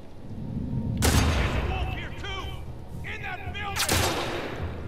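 Two heavy gunshots blast out about three seconds apart in The Last of Us Part II, each a sharp boom with a ringing tail, while a player talks in between.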